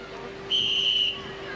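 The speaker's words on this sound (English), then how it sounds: "away they go on Mike Swan's whistle" A referee's single sharp whistle blast of about half a second starts a team race at an outdoor It's a Knockout games event, over a hum of crowd background.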